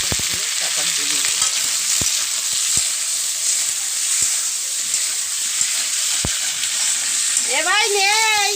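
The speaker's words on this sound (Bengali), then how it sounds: "ডিমের ঝোল হচ্ছে ডিমটা আলুটা ভালো করে ভেজে নেওয়া হচ্ছে মশলাপাতি দিয়ে" Egg and potato frying in a pan with spices such as ginger and garlic paste, a loud continuous sizzle with occasional sharp pops and stirring clicks, close up, with a brief voice-like tone near the end.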